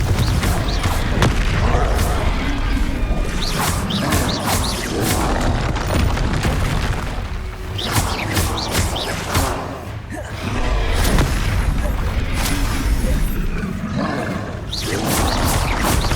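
Explosions from the Confringo blasting spell in the Hogwarts Legacy video game sound out as repeated loud booms and thuds in irregular bursts, layered with rumbling roars and combat effects, dense and close throughout.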